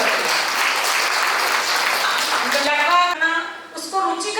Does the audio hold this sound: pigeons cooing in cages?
no